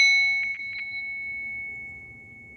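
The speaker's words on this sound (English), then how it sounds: "Let me ring this bell very lightly" A small hand bell struck lightly a few times in quick succession, leaving a clear, steady ringing tone that lingers and slowly fades over low background hum.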